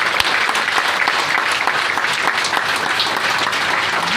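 Loud, sustained applause from an audience at an indoor health-product meeting, dense clapping that holds steady throughout with no pauses.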